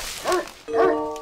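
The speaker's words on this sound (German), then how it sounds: "Schon wieder ein Hund." Dog barking in the video game Baldo – The Guardian Owls: two short yelping barks close together, the second ringing out longer with a tonal tail, alone and fairly clear.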